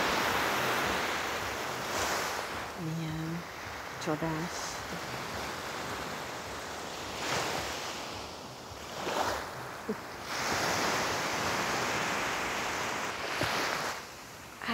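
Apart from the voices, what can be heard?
ocean waves breaking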